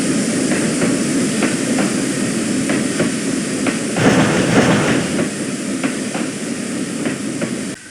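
Trains rushing through a new tunnel in a 1953 railway story, a loud continuous roar with a regular clickety-clack of wheels over rail joints, close and unbroken, the rush dropping off at the very end.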